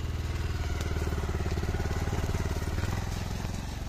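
A motorcycle with its silencer removed runs close by, giving a loud, rapid, raw popping beat that stays steady and unbroken for the whole moment.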